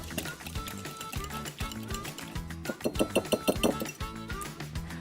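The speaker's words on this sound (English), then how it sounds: "We'll just whisk that together until it's all combined" Whisk clinking briskly against a bowl while grapefruit juice and zest are beaten together for an olive oil grapefruit cake, a steady run of close metallic taps with a quicker, louder burst midway.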